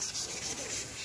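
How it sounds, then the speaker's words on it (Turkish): Water sandpaper wet-sands a bicycle frame being prepared for paint, a close, continuous gritty rubbing with quick back-and-forth strokes. "Zımpara değil, su zımpara."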